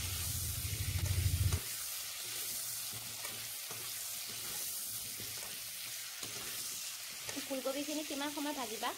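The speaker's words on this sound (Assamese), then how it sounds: "এতিয়া তেলত এই কাটি থোৱা ফুলকবিখিনি দি অলপ সময় তেলত ভালদৰে ভাজি ল'ব লাগিব" Cut cauliflower frying in oil in a pan, a steady low sizzle heard under quiet background, preceded by a louder burst of crackling and followed by a brief tonal sound near the end.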